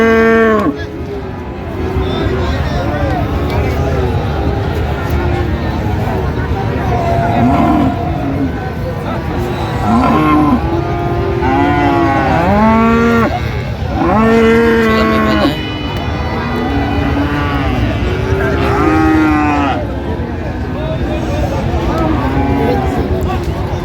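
Friesian and crossbred bulls bellowing at a busy cattle market in Dinajpur, repeated loud moos rising and falling close by, one after another over a crowd murmur with people talking.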